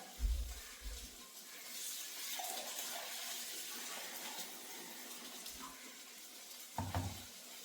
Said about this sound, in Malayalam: കുറച്ച് വെള്ളം എടുത്തിട്ട് വരാം